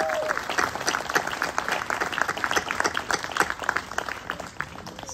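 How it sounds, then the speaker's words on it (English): Graduation audience applause for the Class of 2022 at Beechwood, a full crowd clapping steadily with distinct individual claps standing out, easing slightly toward the end. "let's give that applause now."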